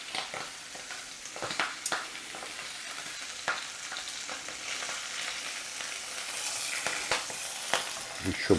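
Lamb sizzles steadily in a hot pan, with frequent sharp pops and crackles of spattering fat throughout.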